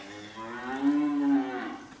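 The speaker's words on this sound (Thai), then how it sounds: "ตอนนี้เรากำลังคล้องวัวนะฮะจากวัวตัวเล็ก" A young cow being lassoed for vaccination lets out one loud, drawn-out moo close by, swelling and then fading over about a second.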